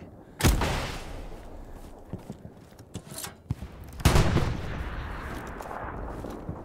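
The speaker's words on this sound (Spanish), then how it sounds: "Vale, la tengo a la vista, disparo con AT." Anti-tank weapon blasts and rifle and machine-gun fire in the Hell Let Loose war game: two heavy booming shots stand out amid scattered sharp cracks and thuds, loud and close, with no talking.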